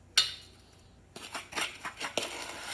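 Egg yolks and granulated sugar being mixed in a bowl for a sweet potato pie: after a single sharp clink, a run of quick, close clinks and scrapes as a utensil works against the bowl.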